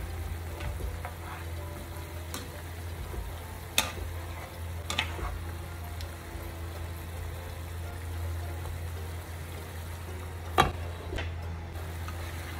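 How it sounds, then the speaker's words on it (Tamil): Pumpkin cooks in a covered pan over a high flame, a faint steady sizzle with a low hum beneath and a few sharp ticks and clicks scattered throughout. "நெருப்பை அதிகப்படுத்திட்டு பம்கின் நல்லா வேகும் வரையில் இதை அப்படியே மூடி வைக்கலாம்."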